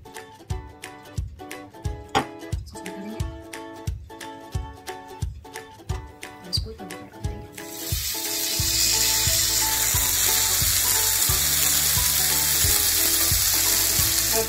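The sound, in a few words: oil sizzling on a tawa while cooking paneer tikka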